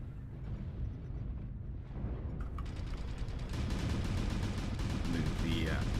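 Warhammer mech's rotary autocannons fire in a MechWarrior video game, a heavy continuous rattling barrage that builds and grows louder over several seconds amid rumbling battle noise, with a voice talking underneath.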